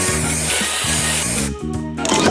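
A spray booster effect from the video game Match Masters hisses loudly over layered electronic game music and chimes, with a brief dip and then a sharp burst of spray near the end.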